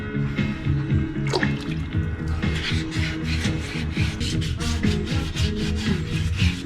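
Light sanding on a painted bike fork, a steady close rubbing rasp of repeated short strokes over a busy background hum, with no talking.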